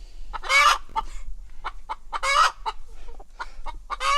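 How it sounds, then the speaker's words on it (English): Chickens squawk in several loud, harsh bursts close by, with softer clucks and cackles scattered between them. "That's Blackie over there squawking."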